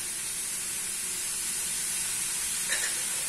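Vinegar and soy sauce hit fried rice in a pan, a steady, moderately quiet hissing sizzle that carries on evenly with one small clink near the end.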